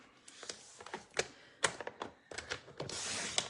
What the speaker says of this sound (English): And then now I'm going to cut this piece right here.